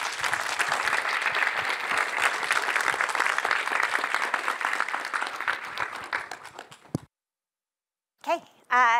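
A seminar audience gives sustained applause welcoming a speaker to a microfluidics and biochemistry talk. The clapping is dense and steady for several seconds, then fades into silence before a voice begins.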